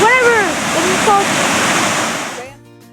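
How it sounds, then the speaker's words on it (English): Steady broadband rush of a small waterfall in a Southern Minnesota county park, loud and continuous, with someone talking over it before it cuts off near the end. "this is the Northwest Waterfall, or whatever it is called."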